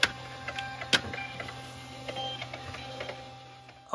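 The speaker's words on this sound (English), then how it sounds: "I've told it to print all the labels. All I have to do is plug in my printer," A small label printer runs, giving a steady mechanical whir broken by irregular ticks and clicks, with a few sharper snaps, close and fairly quiet with no voices.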